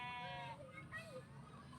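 A sheep on a farm gives one clear, close bleat, followed by faint farmyard background and muffled voices.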